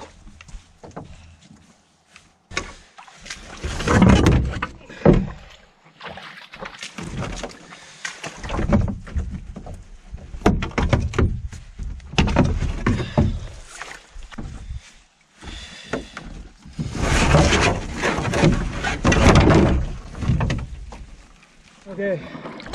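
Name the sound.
washing out a canoe with water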